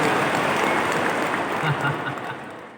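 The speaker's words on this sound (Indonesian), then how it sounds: "tepuk tangan untuk kita semuanya" A workshop audience at a character-building session claps together in a dense, sustained burst that slowly fades, with a speaker's voice heard over the applause.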